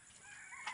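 Farm chickens kept penned in on an overcast day, a short burst of fowl calls with a brief crow-like rise near the end, fairly close and without talk.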